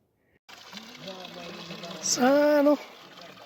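Water pours steadily from a spring-fed tap on a trekking route to Gosaikunda, Nepal, a continuous close rushing hiss beneath a voice that grows louder partway through.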